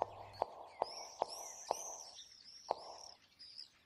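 Birds chirp in an RPGMaker horror game, a series of bright, high tweets and whistling calls over soft repeated clicking taps, faint and steady without talk.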